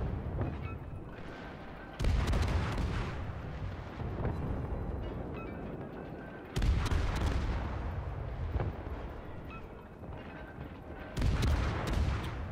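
Ship artillery booms in the World of Warships game, featuring the battleship Nagato alongside the Tier 7 destroyer Leningrad: three heavy, loud salvos roughly every four to five seconds, each with a sharp onset and a long rumbling decay, and no talk.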